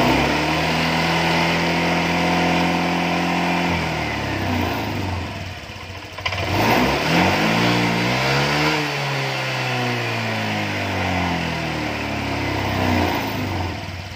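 Honda Vario 125 FI scooter engine revving up and down with throttle, a steady loud mechanical drone whose pitch rises and falls through the whole stretch, close by, with no talk.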